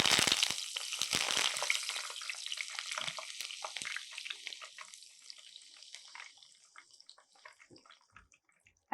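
Curry leaves hit hot oil with a loud burst of spattering crackle that gradually thins into sparse, fading pops and sizzles over several seconds.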